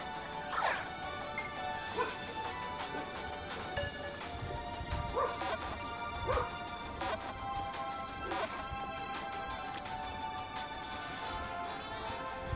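Several dogs bark in short, scattered bursts from a little distance, with occasional yips and knocks over a steady outdoor background, while someone out walking in a town is playing Pokémon Go.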